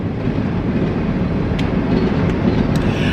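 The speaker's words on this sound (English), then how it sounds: "So I sit here until the train is done." A train rolls past on the track nearby, a loud, steady rumbling roar with wind buffeting the microphone and a few faint metallic clicks, with no voices.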